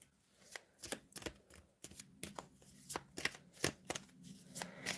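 Advice cards being shuffled up close, with a quick series of soft riffling slaps and flutters in an irregular rhythm, quiet and alone.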